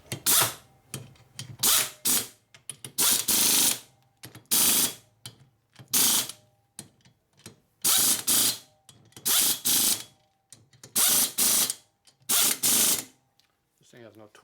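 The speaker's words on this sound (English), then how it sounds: "I'm going to use my cheap ass air gun here I don't like." A cheap pneumatic air gun works the rocker box bolts on a 1961 Harley-Davidson Sportster XLCH engine, firing over a dozen short, loud rattling bursts in a rapid, irregular rhythm, close up.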